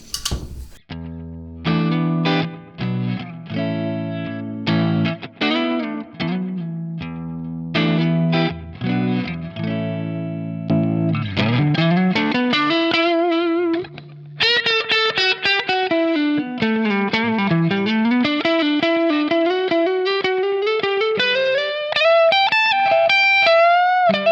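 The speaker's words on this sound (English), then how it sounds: "It's a really nice neck pickup clean sound, or clean lead sound." A clean electric guitar on the neck pickup, boosted through a NUX Masamune compressor and boost pedal, plays a lead line with sustained, singing notes and wide string bends, loud and upfront throughout.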